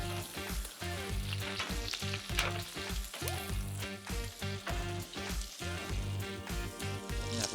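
Scallops sizzling on a preheated, oiled barbecue grill, a loud continuous crackling fry with rhythmic bursts and scraping pulses, close and unbroken, with no talking.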